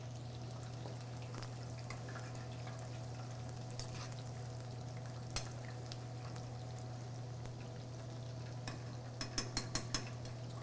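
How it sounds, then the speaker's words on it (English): Chicken pieces for General Tso's chicken frying steadily in hot oil, a constant close sizzle with a low hum underneath and a few sharp clicks near the end. "While this is frying"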